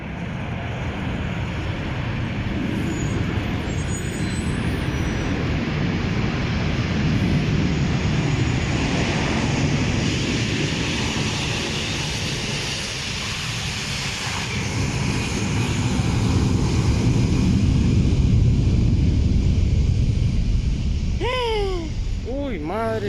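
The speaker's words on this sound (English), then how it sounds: "The landing was captured by a cameraman on the ground." Aircraft crash landing at an airport in Costa Rica, heard from the ground as a loud, sustained engine roar with rushing wind noise, rising and falling over about twenty seconds, with voices and a whistling sweep near the end.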